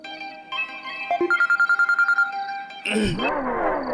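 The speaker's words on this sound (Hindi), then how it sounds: "राजकुमारी बुआ का फोन है, वीडियो कॉल" A phone's ringtone for a video call plays as a melodic electronic tune with a rapid run of repeated beeps, followed by a brighter, louder burst of ringing.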